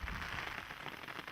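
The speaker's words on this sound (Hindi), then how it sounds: "बारिश तेज हो रही है।" Rain falls steadily and grows heavier in the Gujarat grasslands, a dense, even hiss of drops on the ground with no voices.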